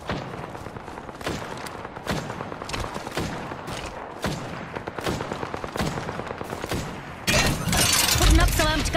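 Rampart's Sheila gun fires in a PS4 game, a run of sharp repeated shots in rapid bursts that build into a dense, louder stretch near the end, with some voice mixed in.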